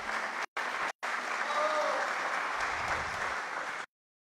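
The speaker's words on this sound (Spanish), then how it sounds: "Un aplauso, sí, claro." Audience applause at the central poetry recital of a national book and poetry festival, a full round of clapping from the hall that swells, holds steady, then cuts off abruptly.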